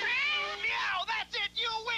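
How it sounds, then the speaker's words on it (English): A cat meows in a Meow Mix cat food commercial with several drawn-out, rising and falling meows, loud and close, that break into short segments toward the end. "Any cat knows the word for great taste is meow."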